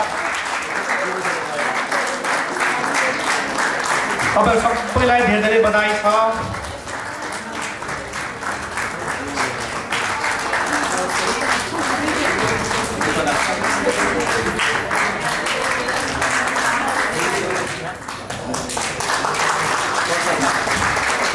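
A crowd at the Asahi farewell session in April 2025 claps steadily and continuously, with a brief lull near the end, while a person speaks over the applause.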